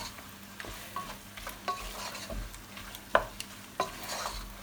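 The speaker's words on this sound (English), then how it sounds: "Just want to fry that chicken off 2 or 3 minutes just to let it seal around the edges" Chicken pieces fry in a pan with a steady sizzle, broken by occasional stirring scrapes and taps, with no one talking.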